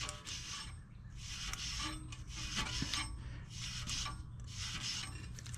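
A bottle brush scrubs a sticking rear brake bolt on a 2014 VW Tiguan R-Line, with rhythmic rasping strokes repeating close by at a quiet level.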